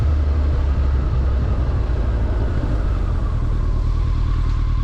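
A Honda Blackbird motorcycle rides over rough Johannesburg roads, a loud, steady engine and road roar with constant low rumble and faint rattling throughout.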